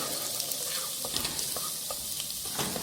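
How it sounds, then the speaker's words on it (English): Chopped garlic fries in hot oil with a steady close sizzle, punctuated by a series of sharp scraping and tapping stirs. "oil has been heated properly and we are going to add chopped garlic. We will stir it properly until it reduces the moisture"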